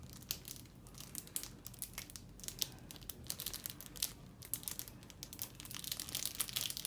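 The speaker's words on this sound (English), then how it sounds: "it comes covered in plastic, so let's just open that up" Plastic wrapping crinkles and tears as it is pulled off a Moyu RS4M speed cube, a steady close-up rustling and crackling with no voices.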